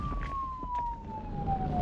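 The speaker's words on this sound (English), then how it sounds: "I heard police sirens outside." A police car siren sounds outside, a single continuous wailing tone that slowly falls in pitch, fairly loud and steady over a low background rumble.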